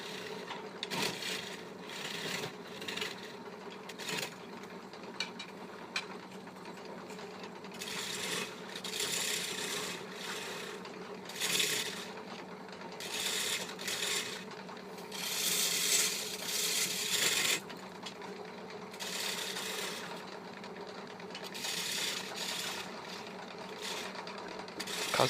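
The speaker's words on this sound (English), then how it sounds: "Coming in at an angle rather than straight gives you a better cut and more control over the chisel." A chisel cuts a mahogany tabletop spinning on a wood lathe, giving a continuous scraping, rubbing hiss that swells and fades in bursts as the tool engages, with no talk.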